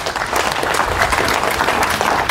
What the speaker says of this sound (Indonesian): Tepuk tangan untuk Polri Pak.